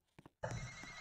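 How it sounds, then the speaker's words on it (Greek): A telephone rings in the Roblox game, starting abruptly and holding as a loud, steady electronic trill after a couple of short faint blips. "Τηλέφωνο, χτυπάει τηλέφωνο."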